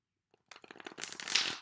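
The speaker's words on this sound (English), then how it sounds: "One more shuffle." A deck of tarot cards riffle-shuffled close up at a reading table, a quick dense burst of papery flutters building to a crisp finish, heard alone after a moment of silence.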